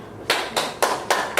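One person claps four times. The claps are sharp, evenly spaced, close and isolated against a quiet room.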